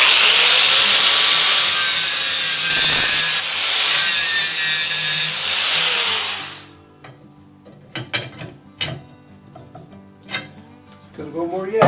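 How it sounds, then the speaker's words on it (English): Grinding a pin flat on a metal bracket clamped in a vise for an MTD carrier, a loud continuous abrasive whine in several bursts for about six seconds, then stopping into quieter scattered clicks and handling knocks. "I set my bracket up in the vise. And I set it up so that this pin would be, like if I grind this flat now,"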